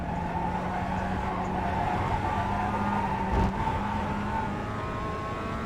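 A car drifting in a racing video game, a sustained tonal tyre squeal layered over engine drone, holding steady for several seconds with a brief bump midway, with no voices.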